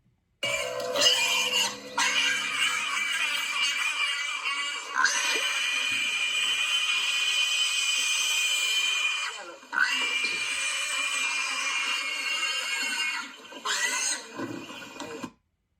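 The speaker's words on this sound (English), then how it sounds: "That's squealing pigs." Pigs squealing in long, loud, piercing cries that run on for seconds at a time, broken only by brief pauses, close and harsh, with no talking.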